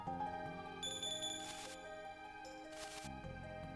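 A bell carried by a bird in the Chrono Trigger video game chimes in two bright, ringing bursts over the game's steady tonal background music.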